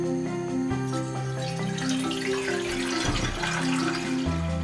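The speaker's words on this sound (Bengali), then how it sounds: "এবং দিয়ে দিচ্ছি পানি" Cold water pours steadily into a cooking pot on the stove for beef broth, a continuous close splashing stream whose pitch shifts as the pot fills, with no talking.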